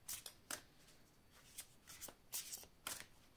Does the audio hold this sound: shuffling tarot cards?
yes